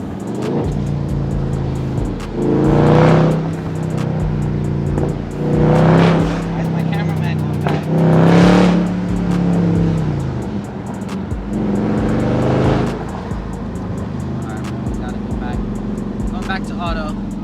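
A 2022 Dodge Charger Scat Pack Widebody with a mid muffler delete revs in loud, repeated surges, each rising and falling over a few seconds, with a steady idle rumble between the pulls.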